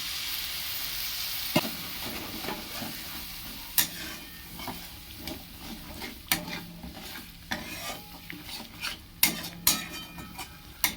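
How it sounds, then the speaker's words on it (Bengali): A spice paste of turmeric, cumin and coriander powder is stir-fried in a pan for a vegetarian potato, green banana and papaya dum, giving a soft steady sizzle broken by repeated scraping and clinking spatula strokes, close and alone. "দিয়ে দেবো আর একটু কষবো।"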